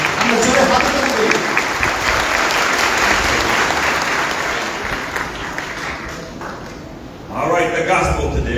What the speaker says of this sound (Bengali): Go ahead, give him a hand. আমরা জোরে হাত তালি দেই।